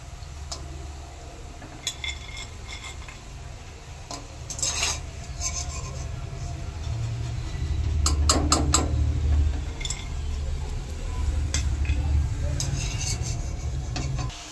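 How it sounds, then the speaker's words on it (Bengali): Nimki pastries frying in a pan of hot oil, a soft continuous sizzle beneath scattered clinks and scrapes of a utensil against the pan, moderately quiet and close. "বাকি নিমকিগুলো আমি এইভাবে করে সব ভেজে নেব"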